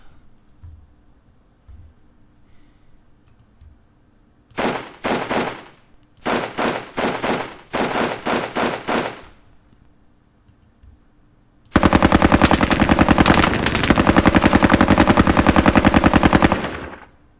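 Machine gun fire at a target in a Winter War video game at Terijoki comes in several sharp rattling bursts, close and loud, ending in one long, sustained stream of rapid shots.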